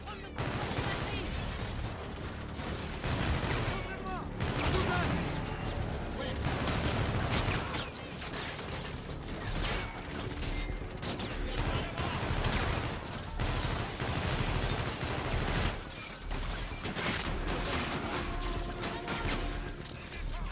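Gunfire in the Call of Duty Infinite Warfare video game, a dense run of sharp shots and crashes over a busy battle soundscape, fairly quiet overall with brief lulls and no clear speech.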